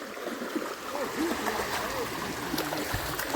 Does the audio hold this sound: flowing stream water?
yes